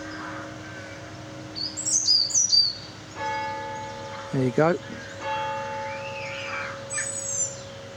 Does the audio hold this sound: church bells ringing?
yes